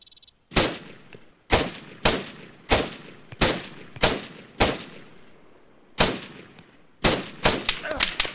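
Gunfire from weapons in the video game Arma 3, a string of loud single shots in an uneven rhythm ending in a faster burst, sharp cracks with echoing tails.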